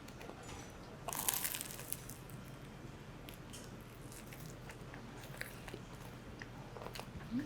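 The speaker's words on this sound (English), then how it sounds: "Did you hear the crunch?" Someone bites into a sugar-coated croissant, giving one faint, close crisp crunch, followed by soft chewing and quiet mouth sounds against a low room hiss.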